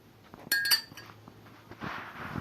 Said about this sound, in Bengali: হানিটি পুরোপুরি দুধের সাথে মিশিয়ে নিলাম ভালো করে।